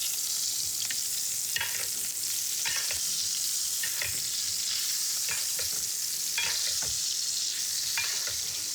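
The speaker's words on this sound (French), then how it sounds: "Vous voyez, ça chante, ça rend du gras." Basque duck breast (magret) sizzles steadily in its own rendered fat while being basted, with a constant crackling hiss and repeated soft spoon clinks and splashes at irregular intervals, no talk.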